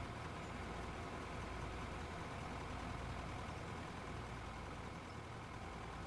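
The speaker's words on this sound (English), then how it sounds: "Get every diesel engine going." Several diesel engines idle together in a video game, a steady broadband rumble that holds at a constant, fairly quiet level with no talk over it.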